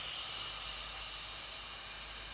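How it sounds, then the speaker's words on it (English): A heat gun blows hot air over wet paint on a wooden sign to make it crackle, a steady, faint airy hiss throughout with no talking. "then I came in with the heat gun and got that lovely crackle"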